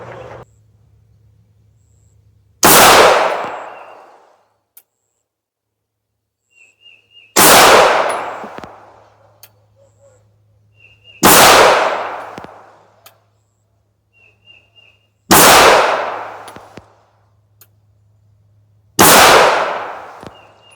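Five sharp, loud gunshots from a Ruger LCP Max pistol ring out at a range, spaced a few seconds apart, each with a short ringing decay.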